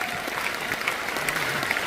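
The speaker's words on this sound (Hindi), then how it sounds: "एक बार ताली बजा सकते हो" An audience in a hall breaks into a brief round of clapping, moderately loud and steady.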